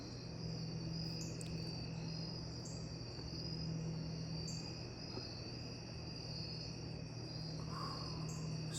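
Crickets chirping outdoors at night, a steady faint high-pitched trill running throughout with a low background hum, no talking.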